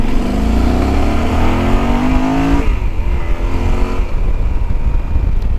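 A Yamaha Super Tenere adventure motorcycle accelerates hard, its loud engine note climbing steadily before easing off into rushing wind and road noise, close up with no talk.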